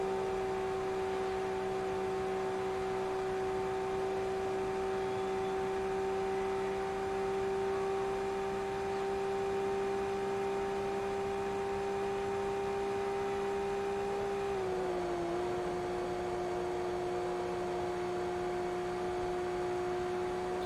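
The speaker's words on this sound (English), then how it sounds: "This car is really loud as well" A loud, steady race car engine drone in Forza Motorsport 2 holds a constant pitch, then dips slightly in pitch and settles again, with no talking.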